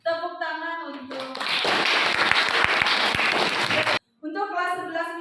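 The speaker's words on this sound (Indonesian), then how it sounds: "Tepuk tangan untuk" A classroom of students applauds in a burst of clapping lasting a few seconds, preceded and followed by a teacher talking.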